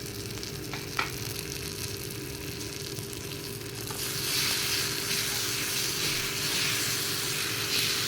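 Garlic paste fries in a pan with a soft, steady sizzle that swells louder midway and keeps hissing, with a faint clink of stirring near the start.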